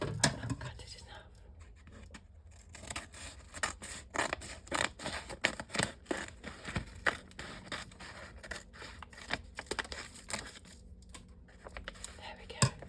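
Scissors snip and scrape through the plastic wrapping on a Harper's Bazaar magazine, close up in a repeated crackly rhythm of cuts and rustles, with soft whispered talk in between.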